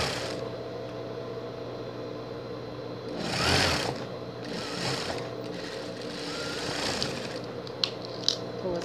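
A sewing machine stitching a fabric seam on a pet jumpsuit, a steady mechanical whir running throughout with a few louder surges as the stitching speeds up, ending in light clicks.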